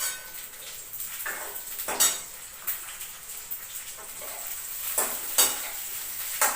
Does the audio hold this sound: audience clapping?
no